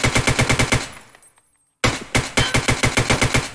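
Close, loud bursts of rapid automatic fire from a TX-15 rifle shot from the hip in Escape From Tarkov, a steady rattling string that stops briefly into silence, then resumes with the same even rhythm.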